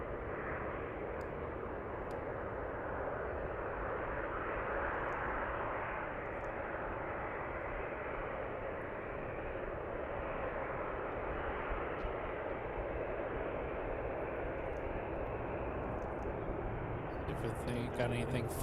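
Alaska Airlines jet airplane rolling onto an active runway in the evening, a steady, broad engine roar that holds at even loudness throughout with only slight swells.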